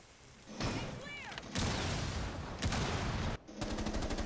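Loud, close automatic gunfire in Rainbow Six Siege, coming in dense rapid bursts separated by brief pauses, with distant shots and game effects mixed in.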